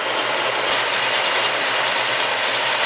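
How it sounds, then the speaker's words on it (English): A car engine fitted with a Street Demon carburetor idles lean, giving a steady, close, continuous low rumble with broadband noise and no talking. "as you can hear, the engine is trying to die, so we're going too lean"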